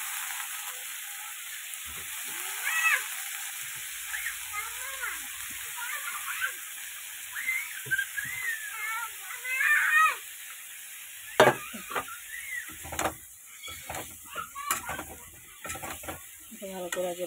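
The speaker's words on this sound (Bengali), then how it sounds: "এবার এগুলোকে একটু লাল লাল করে ভেজে নেব।" Steamed cauliflower florets and potato pieces fry in oil, giving a steady hiss with scraping stirs and clinks of a utensil that grow busier toward the end, with no one talking.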